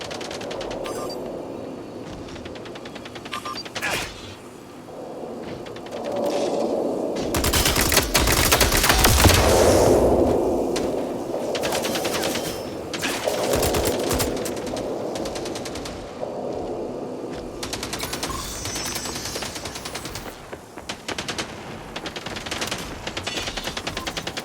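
Repeated bursts of automatic gunfire rattle against bots in a facility in the shooter game Mindseye, with dense rapid volleys separated by brief pauses and impacts.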